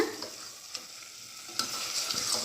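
Eggs are stirred into sizzling egg gravy in a pan, with a soft continuous frying hiss broken by a few sharp scrapes and clicks of the spoon against the pan, heard alone.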